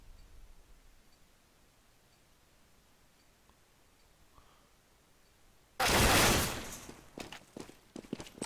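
A sudden burst of gunfire erupts from the Counter-Strike map Overpass in a professional match, loud and sharp after several seconds of near-silence, followed by a few scattered clicks and shots.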